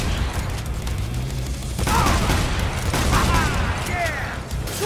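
Shotgun blasts from the action game Devil May Cry 5 boom in short bursts over busy combat sounds and music, with a few heavier hits standing out.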